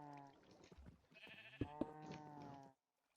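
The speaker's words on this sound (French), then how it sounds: "Il y a clairement un bruit de chèvre." A goat bleats in Minecraft, a couple of wavering bleats near the middle over other layered game sounds, fairly quiet, ending in silence.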